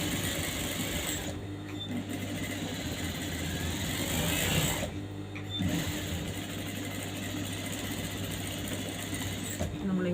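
A sewing machine runs steadily through fabric during a tailoring lesson, its continuous mechanical whir broken by two short pauses as the stitching is adjusted. A voice talks over it.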